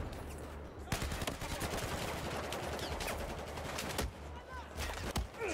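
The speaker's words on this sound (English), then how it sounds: "I know there's a guy on the rooftop shooting me." Sustained automatic gunfire in Battlefield 4, dense rapid bursts rolling on for several seconds with sharp louder shots cutting through, loud and close amid constant battle noise.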